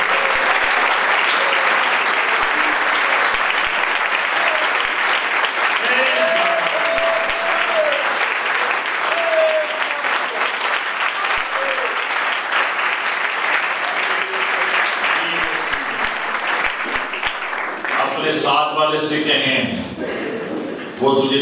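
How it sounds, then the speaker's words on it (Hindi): Church congregation at a sermon claps loudly and steadily for a long stretch, a dense wash of applause with cheering voices mixed in, ending with a brief burst of talk. "यीशु नासरी के लिए जोरदार ताली"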